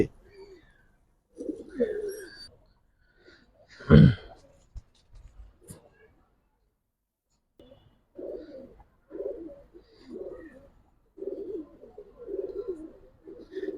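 Giribaz racing pigeons coo softly nearby, several low murmuring calls spread across the moment, with a sharp knock or flutter partway through and a voice talking intermittently.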